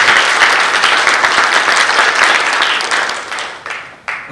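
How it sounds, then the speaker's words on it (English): Audience applause at a leadership awards ceremony, dense clapping from a large crowd that holds steady, then thins out and fades near the end with a brief late burst. "Let me see the sound of applause for you."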